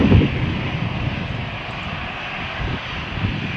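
A Swissair Airbus A321-212 taxis at Malaga Airport on a stormy morning, its engines giving a steady, moderately loud drone with no voices.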